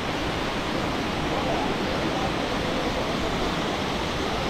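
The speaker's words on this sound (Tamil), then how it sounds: "இந்த சவுண்டு தண்ணி கீழே விட சரியான சவுண்டாக இருக்குது." Water at the Aagaya Gangai waterfall rushes and crashes in a constant, loud, broadband roar that stays even and unbroken throughout.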